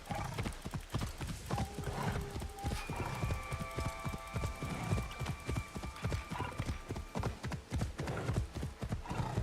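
A horse gallops in the video game Assassin's Creed Shadows, its steady rapid hoofbeats drumming continuously and close, with a brief whinny and a faint musical tone layered over the clatter.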